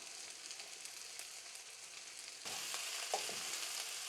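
Spring onions sauté briefly in a pan, a soft steady sizzle that grows louder halfway through as more hits the hot fat, with faint stirring clinks.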